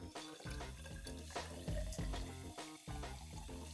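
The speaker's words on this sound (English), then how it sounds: "I'll just turn on my water and top it up." Tap water runs steadily into a home-brewing hydrometer test jar to top it up, a continuous close pouring and filling sound with no talk over it.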